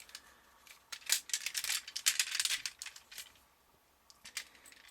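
Plastic parts of a Transformers G1 Doubledealer toy click and rattle as they are handled and folded, giving a run of small close taps and clacks, a pause, then a few more light clicks.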